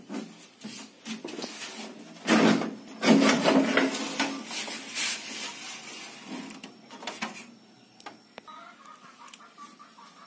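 Casing of a Panasonic 20-inch TV being opened, with close scraping, rubbing and plastic clicking noises that swell in the middle, then taper into lighter handling sounds.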